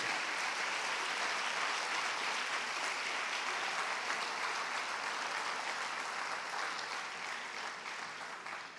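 Church congregation at a Sunday service applauding loudly and steadily, a dense wash of many hands that holds for the whole stretch and eases off slightly at the end.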